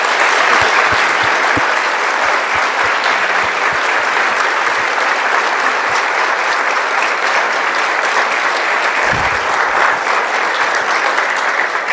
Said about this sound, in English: let's give Mark another round of applause